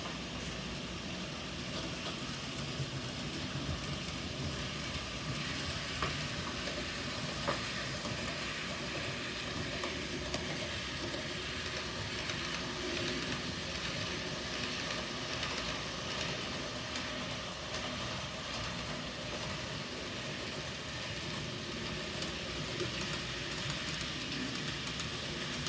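N gauge model trains, including a Class 73, run around a model railway layout, giving a steady low rumble and faint rail clatter that holds at an even level throughout, with no talking.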